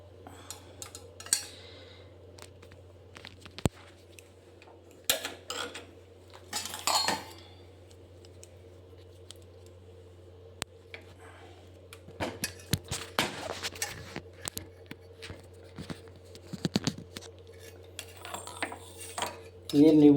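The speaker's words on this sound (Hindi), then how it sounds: "अब इस नाइफ़ से हमने ये नींबू काट रहे हैं।" A knife slices through a lemon on a hard surface, making sparse, irregular taps and light clinks over a low steady hum, with faint talking in places.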